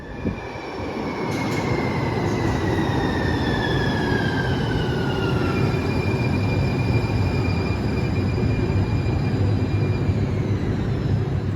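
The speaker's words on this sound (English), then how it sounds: "there's this brand new subway that'll take us there" A new San Francisco subway train runs steadily and loudly, with rumbling wheels and long, high wheel squeals that rise and fall throughout, and no voices.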